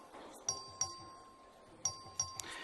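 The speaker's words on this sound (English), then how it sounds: "The clerk will ring the bell." Texas House voting bell rung by the clerk: four sharp electronic dings in two pairs, each with a bright ringing tone that decays quickly, set against a quiet chamber murmur.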